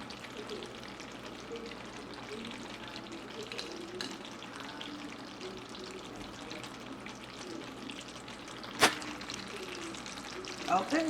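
Green onions sizzling in a pan for spicy braised pork, a steady faint crackle with a few sharp clinks of utensils, no one speaking.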